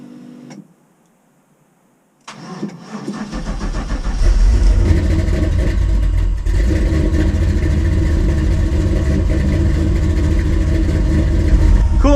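LS-swapped square body Chevy truck cold start: a brief hush, then the starter cranks and the engine catches into a loud, steady, close idle with a ticking rhythm.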